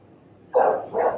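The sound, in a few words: dog barking outside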